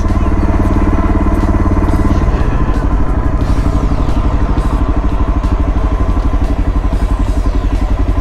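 A Honda CRF 125F five-speed trail bike engine runs loud and close, a steady buzzing putter with a slight rise in revs partway through, with no talk over it.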